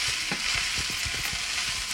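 Rice frying in a pan for fried rice, a steady bright sizzle with soft repeated stirring scrapes underneath, close and continuous with no talking.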